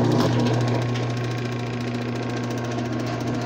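Old Craftsman machine running with a steady mechanical grinding drone and rapid rattling vibration, loud and close, continuous throughout without talk.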